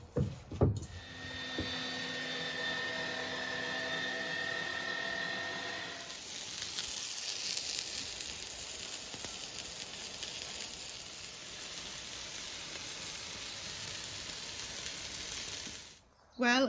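Homemade minced pork cooking on a grill on a homestead, a steady close sizzle and hiss that grows brighter and louder partway through, with a faint tonal hum early on and a sudden break near the end.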